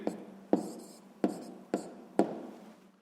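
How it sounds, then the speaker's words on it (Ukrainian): A maths answer is handwritten on paper: a pen scratches in short strokes, with four sharper taps as it strikes the page, close and quiet, with no talk. "записуємо відповідь"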